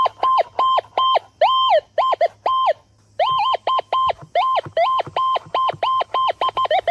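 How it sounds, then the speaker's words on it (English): A Minelab Gold Monster 1000 metal detector signals over gold-bearing quartz with a rapid run of loud, electronic, alarm-like beeps. The tones come in short stepped bursts and repeat close up, with no talking. "This is the Minelab Gold Monster 1000. Great little machine for specimen gold."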